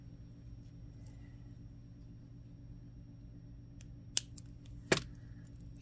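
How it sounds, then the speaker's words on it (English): Beading wire being snipped with cutters, two quick crisp clicks close by near the end over a steady low background hum. "now we're going to cut off this last bit of wire"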